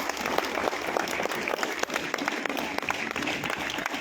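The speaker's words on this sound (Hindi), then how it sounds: "ताली ताली ताली" A crowd claps in a lively, uneven patter of many hands with sharp individual claps standing out, continuing steadily for a few seconds.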